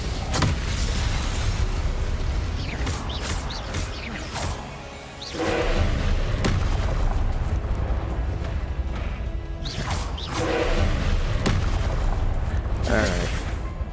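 Fire and blast spells, Incendio and Confringo, are cast in the Hogwarts Legacy video game, giving repeated whooshing bursts and impacts at intervals over steady combat noise, with a person talking in between.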